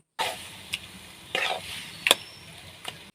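Taro leaves and chili being stirred in a pan for a vegetarian Bengali dish, a soft sizzle under a few distinct scraping strokes spaced across the moment, close and fairly quiet.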